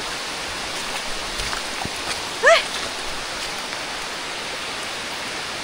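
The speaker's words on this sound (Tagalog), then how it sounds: "Umuulan na nga ata. Malakas na." Heavy rain falling steadily on a mountain hike, a dense even hiss with no breaks, and a voice briefly exclaiming over the downpour.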